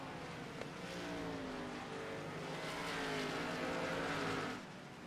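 Race car engines roaring in a racing game replay of the Bathurst 250, a sustained high whine with rising revs as cars pass, steady and fairly loud, with no talking.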